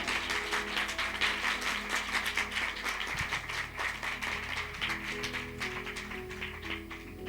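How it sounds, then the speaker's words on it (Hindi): A church congregation claps loudly in a continuous, dense burst of applause during a worship service. Faint sustained tones sit underneath, and the clapping holds fairly steady throughout. "उसके लिए हम जोर से ताली बजाएंगे"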